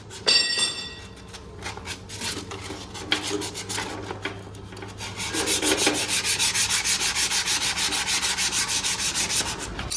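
Hand file rasping burrs off a metal part of a straw reaper during repair, first in irregular scrapes, then a steady rapid run of rhythmic back-and-forth strokes, close and fairly loud with no talking.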